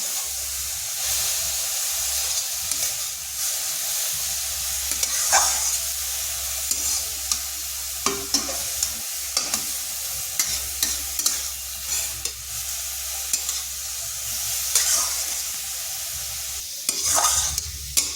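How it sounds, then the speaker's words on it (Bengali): Grated carrots cooking in a pan over medium heat, stirred steadily: a continuous close sizzle and steamy hiss with repeated scraping strokes of a spatula throughout, no talking. "আঁচটা কিন্তু আমি মিডিয়াম আঁচে রেখেছি"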